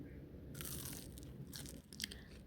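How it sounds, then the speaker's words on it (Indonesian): Crispy Indonesian corn fritter (bakwan jagung) broken apart by hand and bitten, a few close, crisp crackling crunches over faint room noise. "Ini saya potek dan coba dimakan."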